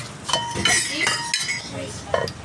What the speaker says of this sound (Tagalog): Tapos kumuha ka ng pinggan ni Tito Bal.